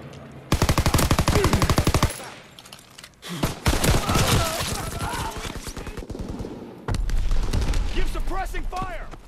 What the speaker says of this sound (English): Keep suppressing fire.